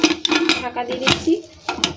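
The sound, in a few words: pressure cooker lid being put on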